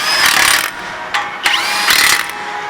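Power tool bursts tightening the front brake caliper bolts on a fifth-generation Toyota 4Runner, a loud whirring run followed by short sharp hits and a second run, close up with no talk.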